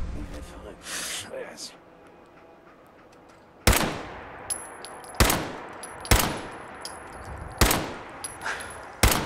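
Gunfire in the video game Fallout 4 comes as sharp, loud single shots spaced about a second apart, each with a decaying tail, after a quieter stretch with a voice talking.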